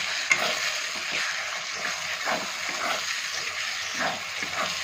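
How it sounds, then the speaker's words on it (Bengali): Spice masala for a mutton curry frying and being stirred in a pan, a steady close sizzle with scraping stir strokes and no talking. "ভালো করে একটু ভেজে নিয়ে মশলাটা কিন্তু ভাজা হয়ে গেছে।"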